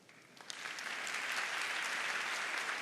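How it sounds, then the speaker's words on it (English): An audience applauds loudly at the opening remarks of a Saudi Youth for Sustainability event. Dense, steady clapping builds over the first half second and then holds at a full, even level. "please, I would like to hear a big applause to her"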